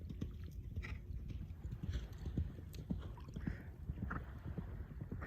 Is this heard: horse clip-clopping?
yes